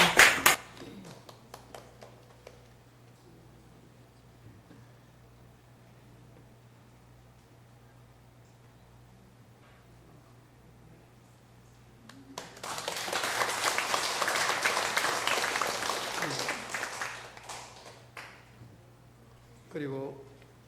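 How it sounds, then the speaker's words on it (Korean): A church congregation breaks into a burst of applause, many hands clapping together for about five seconds and then tapering off, following a spoken address in a quiet, reverberant room with a low steady hum underneath. "박수"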